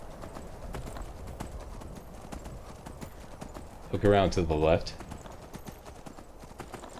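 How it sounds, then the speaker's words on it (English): A horse ridden in the video game Skyrim keeps up a steady clip-clop of hooves and gives a brief whinny partway through, while a voice talks over it. "Take your newly borrowed horse."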